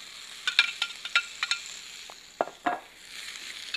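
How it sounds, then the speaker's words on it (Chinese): Cabbage and bamboo shoots are stir-fried in a wok, with a faint sizzle under a run of sharp spatula taps and scrapes, a few quick strokes followed by two heavier clacks, close-up and fairly quiet, with no speech. "白菜炒软了之后，把笋子也下锅"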